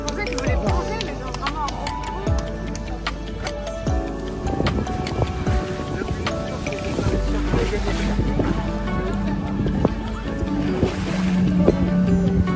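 Waves slap and splash around a sailing catamaran at sea, with steady wind rumbling against the microphone and continuous water movement, irregular and fairly close throughout.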